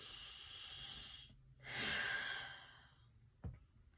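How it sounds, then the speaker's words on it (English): Deep breathing with open-mouth exhales during a meditation for anxiety: a long breathy exhale, then a louder inhale or exhale swelling in the middle, and a short soft puff near the end, heard close with no talk. "take 2 deep breaths with open mouth exhales if you want"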